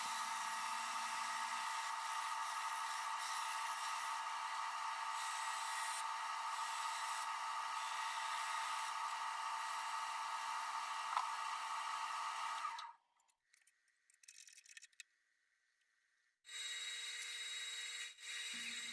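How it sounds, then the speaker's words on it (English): A power drill whines and grinds steadily into a wooden lid for a long stretch, then stops; brief quiet handling follows before the loud whirring resumes. "here I'm just drilling a hole in the top of the lid where the finial will sit in"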